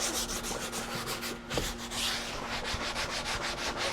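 Scrub Ninja scrubbing brush works over the interior surfaces of a neglected 2008 Honda CR-V, a steady close rubbing and scraping that runs continuously with small rhythmic pulses and no talking.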